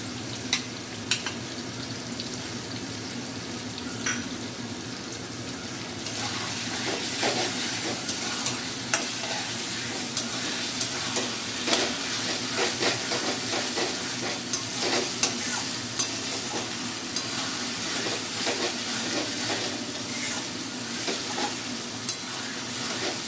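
Shrimp frying with potato and onion while ginger-garlic paste is added, a steady loud sizzle with a stirring spatula scraping and clicking throughout, no voices.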